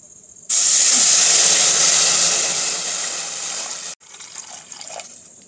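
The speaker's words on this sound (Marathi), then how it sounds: "आपण इथं आता कढईमध्ये पाणी गरम करायला ठेवू" Water rushes into a kadhai set for heating, a loud steady hissing pour lasting about three and a half seconds before cutting off abruptly, followed by faint light clinks and movement.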